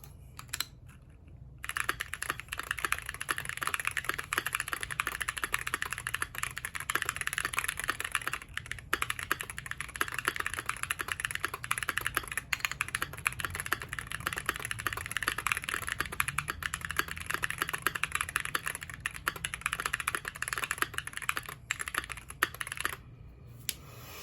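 Fast, continuous typing on a Keychron Q1 mechanical keyboard fitted with Glorious Panda switches, close and steady clacking with a few brief pauses, including one near the start and one near the end, over a faint low hum.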